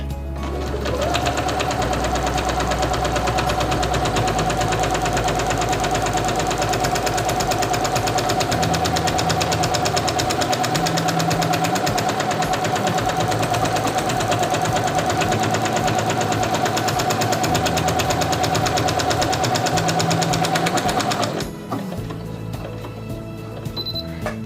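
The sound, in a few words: Singer Quantum Stylist 9960 computerized sewing machine sewing a buttonhole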